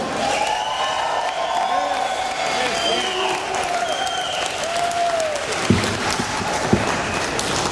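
A crowd applauds and cheers at the unveiling of a bronze bust of George Romero, sustained clapping with whoops and shouted voices over it, a couple of sharp louder claps near the end.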